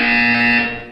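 A single steady electronic buzzer from a test chamber in the video game Portal 2, loud and sustained for just under a second with a harsh, bright tone before fading at the end.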